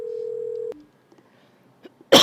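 A phone number is dialed on speakerphone in the video game Agent A: a single steady electronic tone holds for most of a second and cuts off, a few faint clicks follow, then a loud burst comes in at the end.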